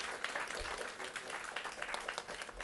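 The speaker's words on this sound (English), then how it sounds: "A bigger round of applause, please." At a national press club federation meeting, an audience breaks into applause, a brisk, dense patter of many hands heard at moderate distance, quieter and continuous.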